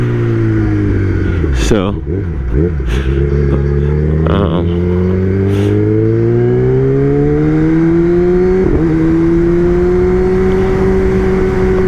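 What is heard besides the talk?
Kawasaki ZX-10R sport motorcycle engine revving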